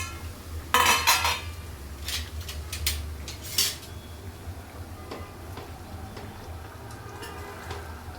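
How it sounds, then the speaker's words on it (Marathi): A lid lifted off a cooking pot of potato, fenugreek and pea curry, with sharp metallic clinks and rattles followed by a few lighter ticks against a quiet kitchen background. "झाकण काढून"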